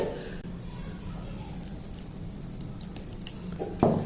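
Ragi dosa batter being stirred with a little added water, giving soft wet squishing and slopping sounds close by, with a voice speaking briefly near the end.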